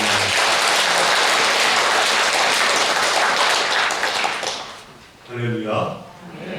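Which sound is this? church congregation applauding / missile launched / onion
church congregation applauding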